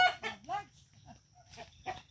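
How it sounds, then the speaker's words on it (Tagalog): Chickens on a farm clucking in short bursts, a few rising calls spaced through the clip, with a faint steady high tone behind them. "Dami pa niyang manok, oh."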